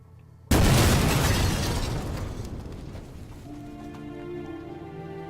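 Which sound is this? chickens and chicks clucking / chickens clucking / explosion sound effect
explosion sound effect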